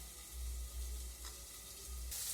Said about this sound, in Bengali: এখন আলু আর গাজরটাকে একটু নেড়ে চেড়ে আমি ঢেকে দেবো 2 মিনিটের জন্য।